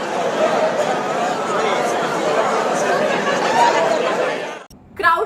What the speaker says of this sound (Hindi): क्राउड की आवाज है। ये शोर की आवाज है।